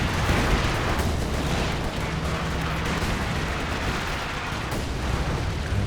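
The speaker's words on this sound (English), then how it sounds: "Incendiary shells dropping on these team weapons out the back." Incendiary artillery shells burst in a dense, continuous wash of rumbling explosions and crackling fire during a Company of Heroes 2 battle, loud and sustained throughout with no voices.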